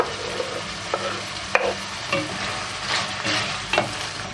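Green and red peppers sautéing in tomato paste in a pan, a steady close sizzle broken by a few sharp scrapes and clinks of stirring, with no talking.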